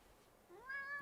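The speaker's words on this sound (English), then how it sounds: "I wonder if I can get him to meow into the microphone." A pet cat named Kimball gives one short, rising meow at the very end, near and fairly soft after a quiet lead-in.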